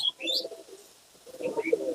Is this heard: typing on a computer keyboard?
no